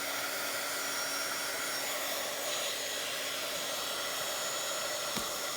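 Steady, loud whirring blow of a hair dryer aimed at wet watercolor paint on a Bible page, running continuously without a break or any talk.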